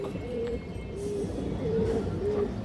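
A female pigeon coos close by in a series of soft, low, drawn-out calls spaced at even intervals over a steady background hum.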